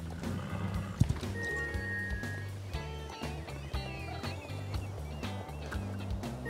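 A horse in the Star Stable Online video game is heard over steady game music, with faint hoof clip-clops and a short whinny-like tone and no speech.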